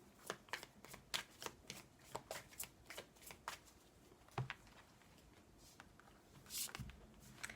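Tarot cards being shuffled and drawn up close, a quick run of crisp riffling flicks and slaps at an irregular rhythm, with a few soft thuds as cards land; no voices.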